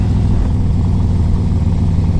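A 2005 Harley-Davidson Electra Glide Classic with a 1550 big bore engine rumbles loudly and steadily up close, a deep continuous idle-like drone with slight throttle swells.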